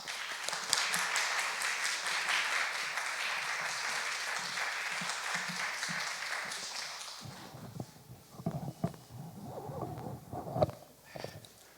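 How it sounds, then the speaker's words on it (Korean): Sustained applause from a church lecture audience welcoming a speaker for several seconds, then fading into scattered claps and a few voices murmuring. "큰 박수로 환영 부탁드리겠습니다"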